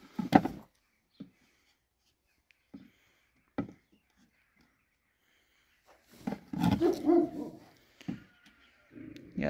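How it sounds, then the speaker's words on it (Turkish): A dog growls and barks in short bursts indoors during a home craft project, the rough vocal sounds loudest toward the end and separated by quiet gaps. "Köpek niye böyle yine şey yapmaya başladı ya? Hırlıyor."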